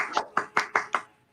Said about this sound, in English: Everyone else, give another big round of applause for Skyla.